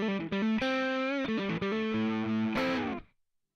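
Distorted electric guitar through a high-gain amp simulation plays a short, heavily saturated riff with thick sustained notes, then cuts off into silence.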